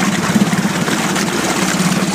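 A Parsun 20hp outboard engine on an old GRP dive boat runs steadily through a gear change, a loud, close, continuous rough drone with no speech over it.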